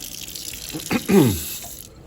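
Tap water runs briefly into a sink to moisten a napkin, a soft close splash and trickle that swells for a moment and then stops, with no talking.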